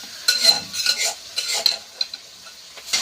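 Ginger garlic paste hits hot oil with browned onions, giving a soft sizzle broken by several scraping stirs of a spatula against the pan, close and fairly loud with no voices.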